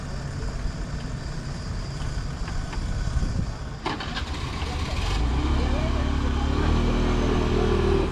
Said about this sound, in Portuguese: Lá vai tentando tirar a motinha.